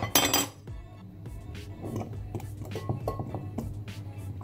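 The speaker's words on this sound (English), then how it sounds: "Then just whisk with a fork because I find it easier to break up the yolks" A fork clinking and scraping against a bowl as eggs are whisked for low-syn brownies; a quick, uneven run of light metallic taps, close by, with no talk.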